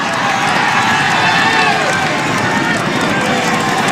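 A roadside crowd at a 2012 Tour de France stage roars continuously as Bradley Wiggins passes beneath them on his time trial. The dense cheering and noise stay loud and unbroken from start to finish.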